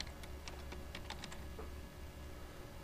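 Quick bursts of typing on a computer keyboard, several rapid key clicks close up in short clusters, then a pause, over a faint steady hum with no talking.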